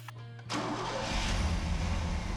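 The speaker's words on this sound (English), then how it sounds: "We started the engine and let the system run with the radiator cap off" A car engine cranks and fires up after antifreeze refill with the radiator cap off, then settles into a steady, fairly loud running rumble.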